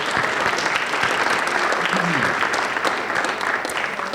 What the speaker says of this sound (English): So give all of yourselves a round of applause.